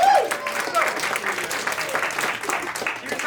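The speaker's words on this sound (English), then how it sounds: "Could I please have a round of applause for my four lovely volunteers?" An audience bursts into steady applause, a dense wash of many hands clapping at once that carries on throughout.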